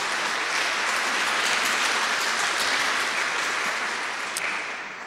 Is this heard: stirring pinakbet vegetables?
no